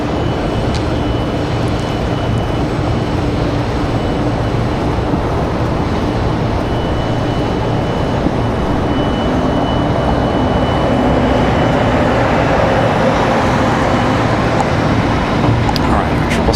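A Delta airliner departing Washington Dulles airport produces a loud, steady jet roar that holds across the whole stretch, swelling slightly toward the end, with a faint voice underneath.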